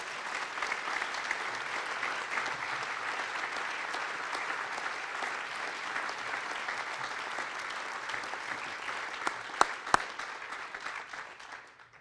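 Large audience applauding at the 2013 Milestones in Mentoring Gala, a dense, sustained wash of clapping that holds steady, with a few sharper individual claps near the end before it tapers off.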